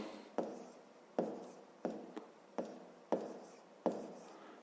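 A pen writes a fraction during a fifth-grade maths lesson, six short evenly spaced scratching strokes, close and faint, with no voice.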